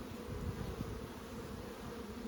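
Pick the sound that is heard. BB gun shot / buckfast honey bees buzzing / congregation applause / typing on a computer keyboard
buckfast honey bees buzzing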